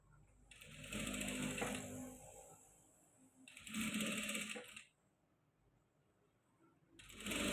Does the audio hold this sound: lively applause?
no